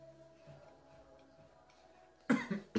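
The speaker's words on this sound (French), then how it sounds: "Non, là, c'est moi qui tousse." A person coughs a few times in quick succession, close and abrupt, after a stretch of quiet room tone with faint ticking while salty snack crackers from an American grocery are being tasted.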